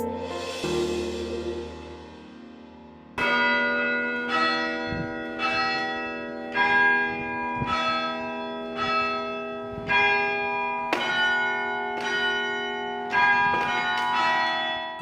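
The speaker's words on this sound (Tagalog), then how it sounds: "ang mga kampana ng simbahan hindi lang tumatawag sa misa" Antique church bells in Iloilo and Capiz ring out in a steady series of bright, ringing strikes, roughly one per second, each leaving a long shimmering decay, after a softer murky opening.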